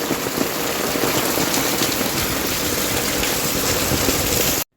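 Heavy, relentless downpour drumming on surfaces in a dense, even roar with no letup, cutting off abruptly at the end.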